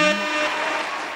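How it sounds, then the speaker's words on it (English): A loud blaring air horn blast that fades out over about a second. "Let me hit the air horn on me."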